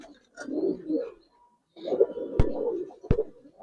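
Giribaz pigeons coo in low, throaty bursts, with two soft rounds of cooing separated by a short pause and a couple of sharp clicks or wing taps near the end.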